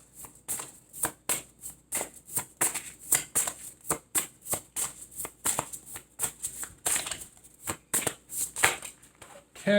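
A deck of tarot cards being shuffled by hand, with quick riffling bursts and soft slaps repeating in an irregular rhythm, close up and clear with no talk over it.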